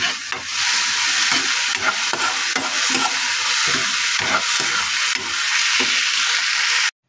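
Washed alamang shrimp paste frying in a pan, a loud continuous sizzle broken by repeated stirring scrapes, close up and alone until it cuts off abruptly at the end.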